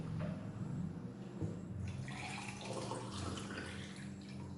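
Water pours from a jug into glasses in soft, faint splashing and trickling that rises and shifts over a few seconds, quiet and close with no voices.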